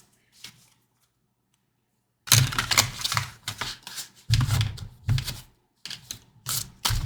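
Tarot cards being shuffled by hand, a run of crisp riffling and flapping bursts after a quiet start, close and fairly loud, with no talk.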